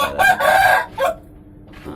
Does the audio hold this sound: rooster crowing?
yes